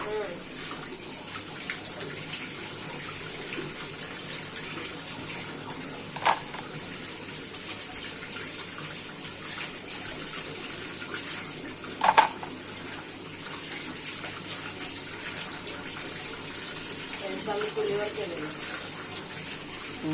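Tap water runs steadily while crabs are washed for cooking, a continuous close splashing flow with a couple of brief clatters and soft talk underneath.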